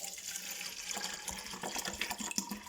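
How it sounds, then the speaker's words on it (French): Tap water runs into a rinsed plastic bottle while building a homemade hookah, a steady hissing trickle with small splashing spikes, fairly quiet and close, with no talking. "On ajoute de l'eau."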